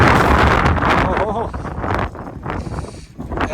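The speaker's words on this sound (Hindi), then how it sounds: "यहाँ तेज़ ठंडी हवा चल रही है" Strong, cold mountain wind gusts steadily across an open high-altitude roadside stop in the Spiti Valley during light drizzle, a loud rushing roar buffeting the microphone for several seconds, with a voice briefly heard.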